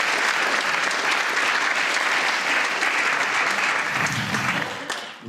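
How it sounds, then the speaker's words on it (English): Enthusiastic audience applause for Steve at a psychic show, a loud continuous wash of clapping that fades out near the end, with no talk over it. "huge round of applause for Steve"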